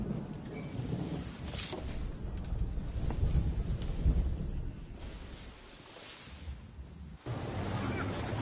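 Stormy seas in the Assassin's Creed video game, with rushing wind and low thunderous rumbles swelling and easing over several seconds as a continuous dense roar, without clear speech.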